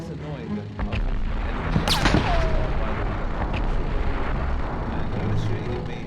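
Gunfire crackles through a Medal of Honor mission, sharp reports and bursts layered over a constant loud wash of battle noise, with a whizzing streak near the middle and someone talking over it.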